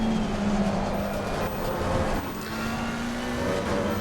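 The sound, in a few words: GT3 race car engine in a racing video game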